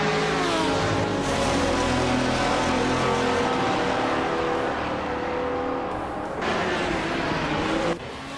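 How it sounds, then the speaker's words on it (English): Race car engine of a 2004 Ferrari 550 GTS in a racing video game, a loud steady drone with rising and falling harmonic pitch as it holds speed, briefly easing off before dropping away near the end. "Haimais is driving a 2004 Ferrari 550 GTS"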